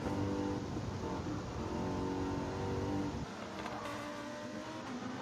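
Mercedes race car in the Gran Turismo 7 racing game, its engine droning loud and close with strong tonal harmonics, then dropping to a lower, quieter note after about three seconds.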